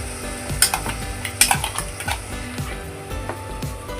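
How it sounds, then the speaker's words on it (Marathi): Spinach and coriander paste being stirred in a pan for palak pulav, with repeated scraping strokes of a spoon and a light sizzle, close and steady, no talking. "आता आपण याच्यात टाकणार आहोत पालकची पेस्ट"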